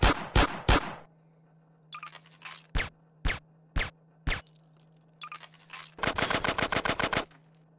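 Rapid bursts of AK rifle fire in a zombie shooter game, with several close, loud volleys and single shots separated by short pauses, ending in a long fast automatic string over a steady low hum.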